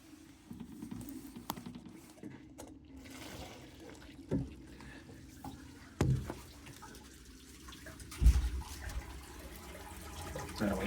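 Water from an ice bath draining out through a hose, a faint, quiet trickle and gurgle with a few louder splashy bursts, no talk.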